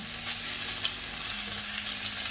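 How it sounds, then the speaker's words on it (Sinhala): Carrot, capsicum and cabbage stir-fry in a hot pan for seafood Mongolian rice, giving a steady, close sizzle with soft stirring scrapes throughout and no talking. "මම කැරට් ටිකක් දානවා ඉස්සෙල්ලා. කැප්සිකම්, කැබේජ්, මේ විදිහට හොඳට කලවම් කරගන්න."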